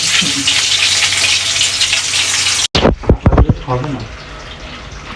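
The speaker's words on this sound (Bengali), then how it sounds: "এক মাইল দূর থেকে মাছ ভাজি হচ্ছে" Hilsa fish frying in oil gives a loud, steady broadband sizzle for about half the clip, then cuts off abruptly as people begin talking nearby.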